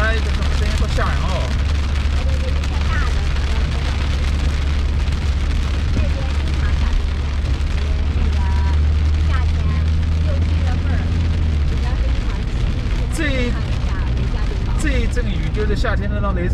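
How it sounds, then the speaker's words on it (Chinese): A summer thunderstorm rumbles and booms around a car driving through it, while heavy rain drums steadily on the roof and glass and the low road drone continues beneath. "就是夏天的那雷阵雨啊"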